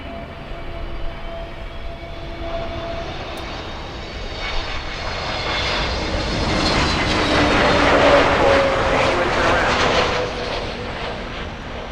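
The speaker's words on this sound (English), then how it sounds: "Next one coming in is an Airbus A321neo flying in from San Juan" An Airbus A321neo jet airliner arrives at an airport, its engine roar swelling from a distant whine to a loud, close rushing peak and then easing slightly.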